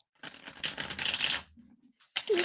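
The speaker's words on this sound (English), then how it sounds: "One more shuffle." A tarot deck being shuffled by hand in two brisk riffling bursts, close and crisp, separated by a short pause with a faint voice in between.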